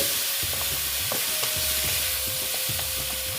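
Pumpkin and spices being stir-fried for a vegetarian dish seasoned with five-spice, with steady sizzling and repeated spatula scrapes and clinks against the pan at an irregular rhythm, close up.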